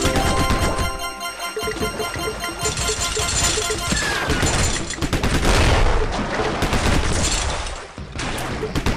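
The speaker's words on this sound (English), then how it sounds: "Heavy machine gun." Heavy machine gun fire in the mobile action shooting game Rambo Boat, a dense, loud, continuous stream of rapid shots and booms over game music, lasting several seconds.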